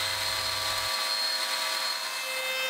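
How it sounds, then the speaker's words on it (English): A router at a router table cuts grooves in wood, a loud steady high-pitched whine that holds constant up close throughout, with a lower rumble dropping away early. "I cut the rest of the grooves at the router table"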